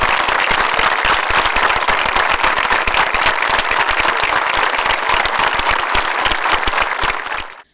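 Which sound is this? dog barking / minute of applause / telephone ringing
minute of applause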